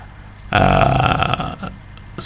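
A single buzzy, distorted synth bass note from an uplifting trance track blares for about a second, then cuts off with a couple of short stabs trailing behind.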